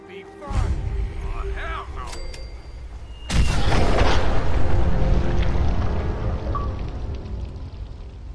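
A Fat Man mini-nuke goes off in Fallout 4: quiet game ambience, then a sudden loud, close blast at about three seconds that swells into a long roaring rumble and slowly fades.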